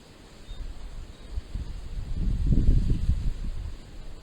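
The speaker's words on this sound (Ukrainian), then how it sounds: "Вітер, звісно, просто треш" Gusty wind buffets the microphone in low rumbling bursts, swelling to its strongest in the middle before easing off.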